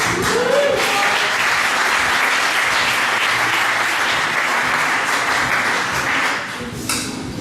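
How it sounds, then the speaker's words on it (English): Audience applause fills a room, loud and dense with many hands clapping continuously for several seconds before tapering off near the end. "I didn't hear enough applause."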